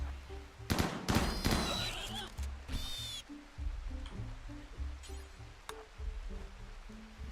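Gunfire from colonists shooting at a boar in RimWorld, a cluster of sharp cracking shots early on, then a few scattered reports under a steady low game music bed.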